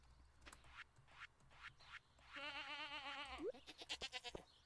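A human voice imitates a goat, giving one wavering, nasal bleat of about a second. It sits between softer clicks and scratchy bursts and is faint overall.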